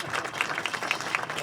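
Brief applause from an assembled audience at a delegations presentation in Sète, a soft, distant patter of clapping lasting only a moment.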